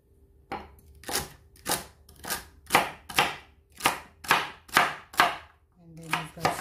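A knife chops celery on a cutting board, about ten sharp, evenly spaced thuds in a steady rhythm, close and crisp, with nobody speaking.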